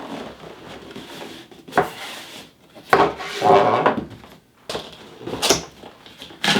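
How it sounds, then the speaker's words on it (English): A FNATIC REACT gaming headset box being opened: cardboard scraping, sliding and rustling in several close, uneven bursts, with a few sharp taps and quieter gaps between movements. "So I think it's best if we open the box."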